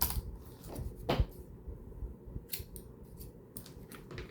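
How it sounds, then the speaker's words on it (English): Scissors snip the binding strings of a handmade journal with a cover made from cardboard packaging, giving a few sharp close cuts spread over a quiet room with light handling noise and no talking. "Cut the strings."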